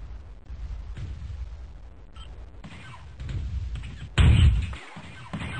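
An enemy mech blows up in a video game, booming rumbles and low blasts building to one loud heavy explosion near the end, followed by a short cut to near silence.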